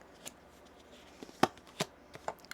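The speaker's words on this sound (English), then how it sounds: "How can Libra begin to heal this Five of Cups? One more shuffle here." Tarot cards being shuffled by hand during a reading, making a soft run of close, quiet riffles and sharp slaps at irregular intervals, with no speech over them.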